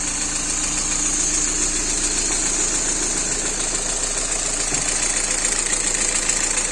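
A car engine knocks at idle, its hydraulic lifters not yet bled, with a Stinger 4-1 spider header and the catalytic converter removed. The rumble runs steady and close, with no voices.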